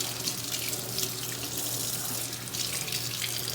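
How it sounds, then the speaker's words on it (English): Very hot water gushes steadily from a tap into a sink, a loud continuous splashing hiss with no pauses or voices. "I have very, very hot scalding water,"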